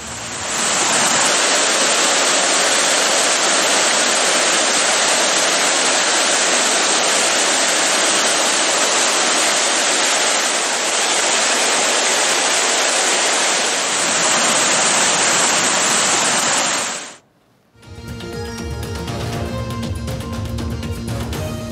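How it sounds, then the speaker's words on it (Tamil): Floodwater of the Nambiyaru river rushing along after days of continuous rain, a loud, steady broadband roar close by that holds for about seventeen seconds, drops out briefly, then gives way to quieter, different sound. "நெல்லை மாவட்டத்தில் தொடர்ச்சியாக பெய்த மழையால் நம்பியாற்றில் கரை புரண்டு ஓடும் வெள்ளம்."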